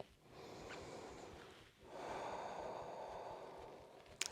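Soft breathing during a hands-free yoga flow, a faint breath of air that comes in two long airy swells with a short gap between them and no talk. Near the end there are a couple of small bumps.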